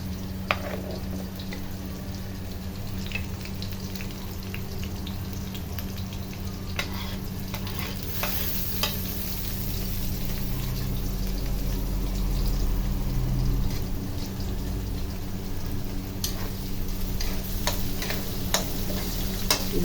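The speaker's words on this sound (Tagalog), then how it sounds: "sa ating pagigisa ng bawang, sibuyas at luya" Garlic, onion and ginger sauté in a pan for spicy chicken sinantolan, a steady frying sizzle that swells partway through, punctuated by scattered ticks and scrapes of the spatula, close up with no voices.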